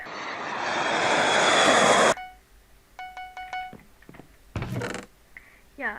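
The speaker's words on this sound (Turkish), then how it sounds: "Uçak uçuruyorum sese bak." An airplane engine in the Minecraft Bedwars game swells to a loud drone for about two seconds, then cuts off abruptly, followed by short tonal beeps and clicks of game sounds, with no talking.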